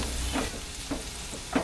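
Softened onions and garlic frying in a pan for crock pot chili make a continuous low sizzle with a few faint stirring scrapes spaced through it.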